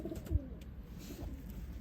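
Soft, low cooing of old-breed pigeons close by, a steady murmuring coo under faint background hiss.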